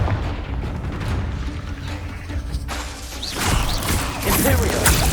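A Confringo blasting curse explodes in Hogwarts Legacy amid continuous battle noise, with a louder burst of impacts and crackle toward the end.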